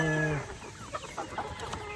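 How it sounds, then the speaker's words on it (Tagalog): A rooster gives a drawn-out call followed by a few soft, short clucks, close by against faint outdoor background. "Napakagwapong manok."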